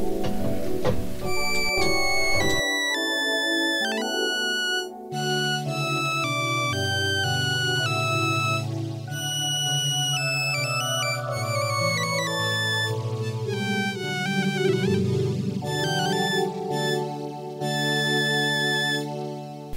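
An electronic organ's synthesizer violin voice plays solo with the tabs on, a sustained, bright melodic line over soft lower tones, steady and unaccompanied by speech.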